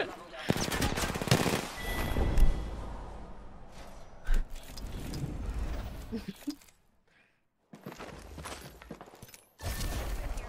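Dense bursts of automatic gunfire from an online ranked shooter match, loud and rapid, running in long volleys with a brief gap before the shooting resumes.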